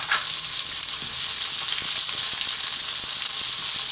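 Onion frying in hot oil with toasted garlic for pork sausage fried rice, giving a loud, steady, close sizzle with faint stirring scrapes throughout.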